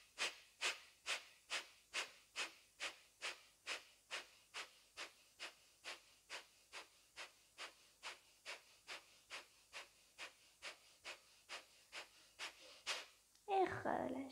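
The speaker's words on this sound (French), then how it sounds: "On va terminer par une dernière série de 30 respirations beaucoup plus rapides." Rapid rhythmic breathing from a yoga breathing exercise: about thirty quick, forceful exhales pulsing at a steady fast pace, close and clear, with one louder breath at the end.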